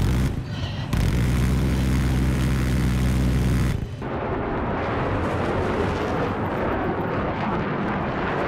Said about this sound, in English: Other jets in the air now.